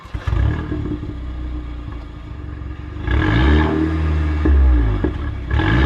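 Porsche engine revving in a couple of bursts after low idle rumble, the pitch rising and falling with each blip, loud and close.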